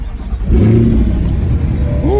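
A 2021 Chevrolet Corvette C8 3LT, a mid-engine car, fires up at the push of a button, its engine catching with a loud burst and settling into a deep, steady rumble close by.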